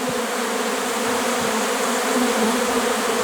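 A swarm of honeybees with drones settles onto empty hive bodies, a dense, steady buzzing hum that fills the air continuously and close by, with no voices.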